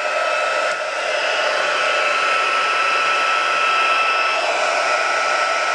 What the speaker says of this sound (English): let's heat set this. And I'm going to just, excuse me, makes a little bit of noise.